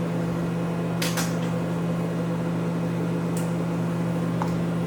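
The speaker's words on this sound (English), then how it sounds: "I'm going to go ahead and microwave that for 2 minutes so we can get these oils heated up." A microwave oven heating soap-making oils hums loudly and steadily, with a few faint clicks and knocks over the drone.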